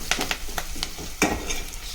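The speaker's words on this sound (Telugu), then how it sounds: "దాని తర్వాత వచ్చేసి బీనీస్ వేసుకుంటాం ఫ్రెండ్స్." Beans tipped into hot oil with ginger-garlic paste and potatoes for a homemade bean curry, giving a steady sizzle broken by several sharp scraping stirs of a utensil in the pan, close and clear.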